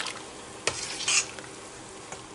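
Dried sorrel flowers stirred in a pot of liquid, with a couple of brief scraping and sloshing strokes over a soft, steady background.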